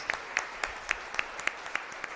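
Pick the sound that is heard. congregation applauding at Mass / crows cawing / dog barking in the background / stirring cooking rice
congregation applauding at Mass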